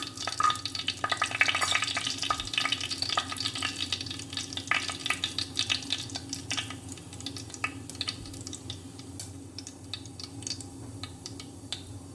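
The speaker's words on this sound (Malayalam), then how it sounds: "ഉലുവയൊക്കെ പൊട്ടി തുടങ്ങിയിട്ടുണ്ട്" Fenugreek seeds crackle and pop in hot coconut oil in a pan, a dense run of sharp little snaps over a steady sizzle that thins out toward the end, with no voice.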